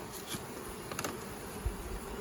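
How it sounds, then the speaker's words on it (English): Honey bees fill an open hive with a dense, steady buzz during an autumn Apiguard treatment, close and continuous with a few soft knocks from handling the frames. "Great population of bees."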